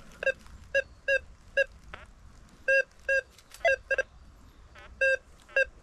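A series of short, sharp electronic beeps from a metal detector in the mountains, repeated in irregular bursts, some doubled, with faint background noise between them.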